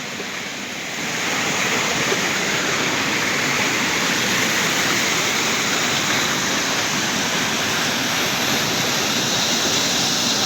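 A jungle waterfall roars continuously in a broad steady rush, close and loud, with no voices.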